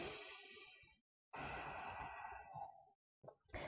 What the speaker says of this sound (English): breathing out through your nose to build heat